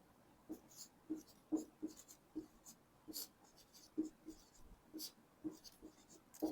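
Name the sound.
writing numbers during a maths lesson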